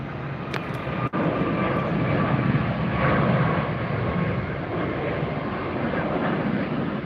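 Jet airliner at Tampa airport, a steady broadband engine roar that holds loud and constant throughout, with no talk over it.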